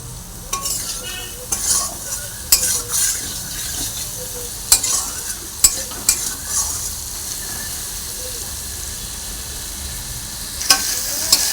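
Turmeric-spiced vegetables with potatoes and okra frying in a pan for a light rohu fish curry: a continuous moderate sizzle broken by sharp, irregular spatula scrapes against the pan.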